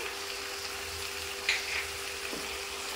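Spice masala of chilli powder, Kashmiri chilli, cumin, coriander and salt sizzles in hot oil for a Bengali egg curry, with a steady close frying hiss and a brief stirring scrape.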